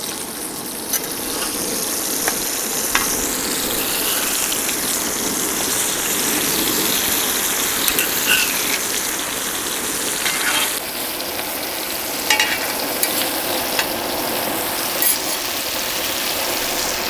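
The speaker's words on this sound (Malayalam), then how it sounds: "അപ്പോൾ നമ്മൾ തക്കാളി 2 സൈഡും ഇങ്ങനെ തിരിച്ചിട്ട് ഏകദേശം നല്ലപോലെ ഫ്രൈ ആയിട്ടുണ്ട്." Tomato slices frying in a pan for a tomato and egg dish while being turned, a continuous loud sizzle with faint scrapes and small clicks, close and without speech.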